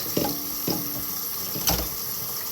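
Tap water running steadily into a sink while something is rinsed, with a few soft knocks and splashes over the continuous hiss.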